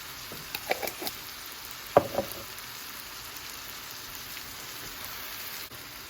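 Minced garlic drops into a pan of cooking cabbage, giving a few soft clicks and a brief louder hit over a steady, quiet sizzle that continues alone.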